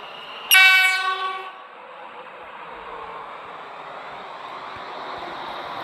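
A seven-coach train at the Airport Terminal 1 station sounds a loud, bright horn blast near the start. Its steady rolling rumble and rush then carry on alone without pause.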